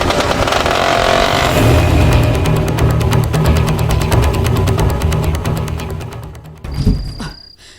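A motorcycle engine drones loudly and steadily close by, holding its note for several seconds before dropping away and cutting off near the end, with a brief higher tone after.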